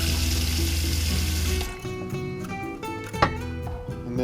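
Water runs from a working sink faucet in a camper van under construction. It starts as a steady, close-up gush, then stops and gives way to small drips, clicks and handling noises, with one sharp knock.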